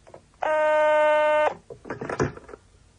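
A telephone fitted in a car gives one loud, buzzy electronic ring of about a second, cut off sharply, followed by brief handling clatter and a short murmur of activity.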